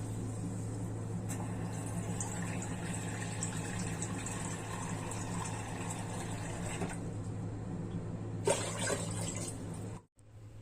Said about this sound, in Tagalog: So, 3 bowl yung ilalagay ko na tubig dyan.